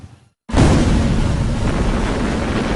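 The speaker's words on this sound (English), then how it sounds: "That starts the explosion, and the explosion rolls across the entire top surface of the plate," An explosion welding detonation rolls across the top of a metal plate, bonding two plates together: a sudden loud blast after a brief silence, then a sustained rumbling roar that stays strong to the end.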